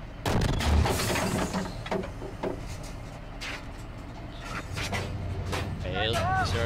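Leopard 2A4 tank main gun firing in a tank simulator video game, heavy booming blasts amid game noise and radio chatter, with people talking throughout.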